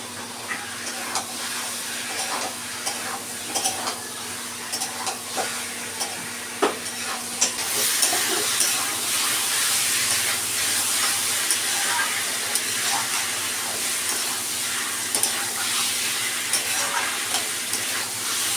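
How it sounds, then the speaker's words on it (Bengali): Chicken frying with spices in a pan for a chicken curry: a steady sizzling hiss that grows louder and denser partway through, with scattered spatters and stirring scrapes close by. "মাংস কষা হয়ে গেছে বন্ধুরা।"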